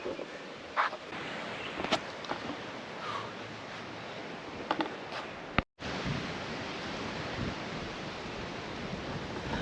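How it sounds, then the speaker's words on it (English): Steady wind roars across an exposed ridge on a Ka'au Crater hike in Hawaii, a broad, continuous rushing buffeting the microphone, with a brief dropout and occasional gusty thumps. "Sorry about the wind, I'm sure you can barely hear me."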